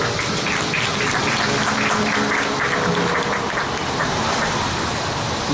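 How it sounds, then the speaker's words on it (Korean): Steady clapping from a crowd at an outdoor candlelight rally with writers, dense and continuous throughout, with no voices standing out. "다시 한번 관심의 박수 부탁드립니다."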